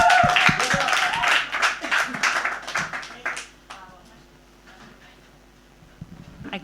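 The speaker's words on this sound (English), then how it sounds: "let's applause for Res.Radio" A small group in a community radio studio claps, loud and close, in a burst of scattered, uneven hand claps that fades out after a few seconds and leaves a quiet room with faint scattered sounds.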